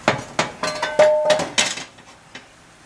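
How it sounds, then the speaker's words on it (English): A metal skillet is handled and set down on a kitchen countertop, giving a quick series of close clanks and clinks that fade into near silence. "Heat up your skillet."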